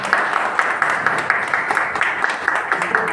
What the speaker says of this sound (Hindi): नमता मैडम के लिए जोरदार ताली बजाते हैं